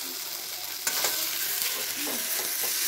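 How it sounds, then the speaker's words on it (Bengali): Boiled potatoes frying in a wok, a steady sizzle broken by scraping stirs of a spatula near the middle and end, moderately loud throughout. "এই আলু সেদ্ধটা কড়াই লাল করে ভাজতে হবে"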